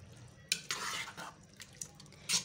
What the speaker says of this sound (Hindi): अब इसको मिक्स कर देना है